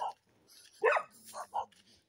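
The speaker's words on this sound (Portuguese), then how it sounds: "Você caminhar em área assim que tem cachorro." Dogs barking on a countryside walk in the sertão: a few loud, close barks and yips in quick succession over a quiet background.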